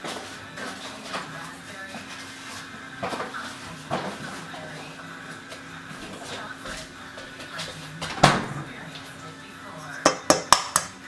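Pans and dishes clatter in a home kitchen during gluten-free pretzel baking, with scattered clinks and a quick burst of sharp metallic knocks near the end, a person talking throughout.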